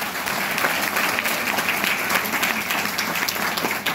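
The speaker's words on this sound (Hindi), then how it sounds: "जोरदार करतल ध्वनि" A thick, sustained burst of loud applause from a seminar audience at a theatre event, many hands clapping together at an even level from start to finish.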